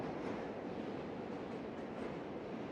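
Trains cross the Manhattan Bridge overhead in Dumbo, Brooklyn, heard from beneath the overpass as a steady, dense rumbling roar with a clattering rail texture. It is continuous throughout, with no talk.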